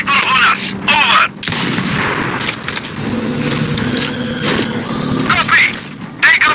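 Sniper fire in a combat video game sounds as loud, sharp bursts amid noisy battlefield ambience, with radio-style voices talking between the shots.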